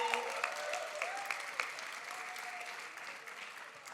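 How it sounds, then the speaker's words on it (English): Applause for graduates fills a commencement ceremony at Stanford's Black Graduation, a steady, moderately distant wash of clapping that lasts several seconds and slowly thins. "Let's give them another round of applause."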